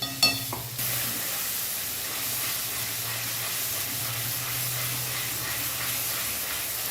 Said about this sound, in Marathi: हे छान असं तेल सुटोस तर परतायचं आहे आता, म्हणजे ग्रेव्हीला छान कलर येईल